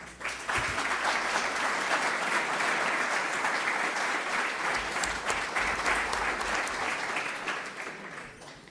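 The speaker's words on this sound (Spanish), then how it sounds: "Recibamos a la profesora Minardi con fuerte aplauso" Audience applause welcoming Professor Minardi to a literary talk on Ribeyro at the Casa de la Literatura Peruana: dense, steady clapping from a seated crowd that begins sharply, holds for several seconds and thins slightly at the end.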